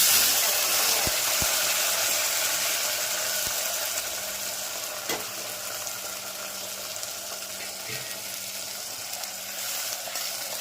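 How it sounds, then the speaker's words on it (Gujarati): Steady, bright sizzle of mustard seeds, cumin and carom seeds crackling in hot oil, continuous and fairly close, with occasional soft pops and no talking. "સરસ મજાનું શાકનો વઘાર ચાલી રહ્યો છે,"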